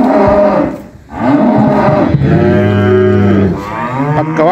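A bull brought from Fresno moos loudly and close, with long resonant calls filling the whole stretch and barely a pause between them, no voices alongside.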